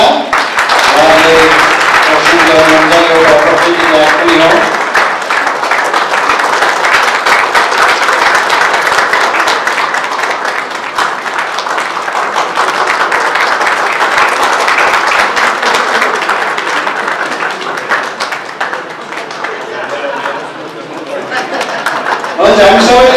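An audience claps at a Christian community signing ceremony in Nepal, with sustained loud applause and crowd chatter mixed in. Voices murmur underneath, and the clapping swells and continues for over twenty seconds.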